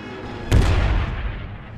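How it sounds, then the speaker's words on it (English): A battleship's heavy guns loose a final salvo as the Hood sinks: one deep, booming blast with a long rumbling tail, heard over a steady low background roar. "the Hood sinks, the forward gun crew heroically fires a final salvo"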